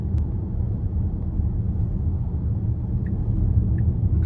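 Inside a Tesla Model Y on a coarse, sandpaper-like road surface, a steady low rumble and tire roar fill the cabin continuously and fairly loud, with a few faint clicks on top.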